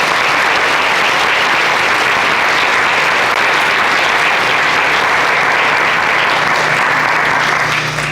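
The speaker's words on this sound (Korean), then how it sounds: "큰 박수를 한번 보내주시면 고맙겠습니다" A large audience at a Gyeonggi Province Liberation Day ceremony gives loud, sustained applause to members of the Korea Liberation Association, a dense, even roar of clapping filling the whole stretch without any speech.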